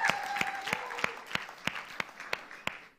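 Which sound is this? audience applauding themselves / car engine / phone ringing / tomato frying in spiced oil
audience applauding themselves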